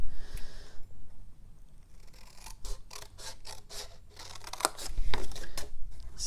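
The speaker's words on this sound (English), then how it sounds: "I'm going to cut each of these 4 off on all 4 sides." Scissors snip through scored paper while cutting out a small tea-bag box: a run of crisp, close cuts in a quick irregular rhythm, with quieter handling between them.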